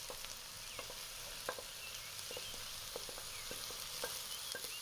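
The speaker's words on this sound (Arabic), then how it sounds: "دابا درنا بصله تشحر، درنا عليها الزيت وخليوها تقلى مزيان" Chopped onion sizzles in hot oil in a pan, a steady, soft frying hiss broken by occasional scraping stirs.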